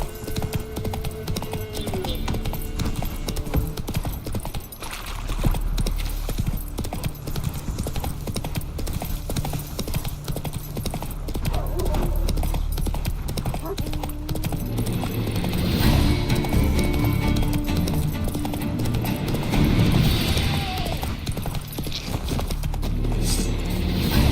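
Roach, the horse in The Witcher 3, gallops with a dense, steady run of hoofbeats that holds for the whole stretch over game music, with occasional snorts and faint background voices.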